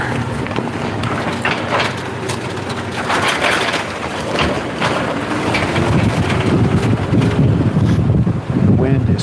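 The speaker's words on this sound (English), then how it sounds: "The wind is picking up." Wind gusts hard into the microphone outdoors on a rainy run, a loud continuous rumbling buffet that builds toward the end, with faint voices underneath.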